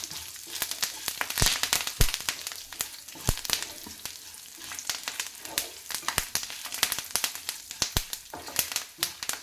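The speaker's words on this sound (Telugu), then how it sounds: "ఒక బెరడు చింతపండు ఇందులో వేసుకున్న మనం మంచిగా ఫ్రై చేసేసుకోవాలి" Curry leaves and a chunk of tamarind fry in hot oil in a pan, giving a steady sizzle with sharp, irregular pops and crackles throughout.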